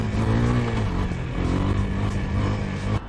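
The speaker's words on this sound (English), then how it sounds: "I'm playing with the gas and catching the balance while wheeling the bike." A motorcycle engine held at a wavering high rev while the rider balances the bike on its rear wheel in a wheelie, loud and close with the throttle modulated slightly throughout.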